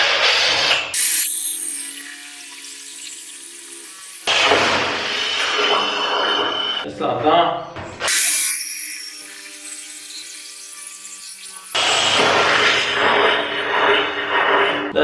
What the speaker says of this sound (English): Pre-drill these holes.